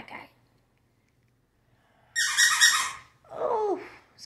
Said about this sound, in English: Oh, squeaky pig.